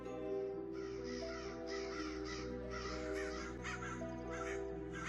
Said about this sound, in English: could you hear all the crows crying?